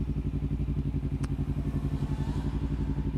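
A Kawasaki Ninja 300 motorcycle riding through city streets, its engine giving a steady, close, pulsing low hum at an even rhythm, with one brief sharp click partway through.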